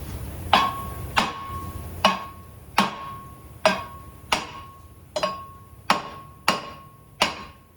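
Ten loud, evenly spaced metallic hammer strikes on the hub mating surface of an Infiniti I30 wheel hub, each ringing briefly before the next blow.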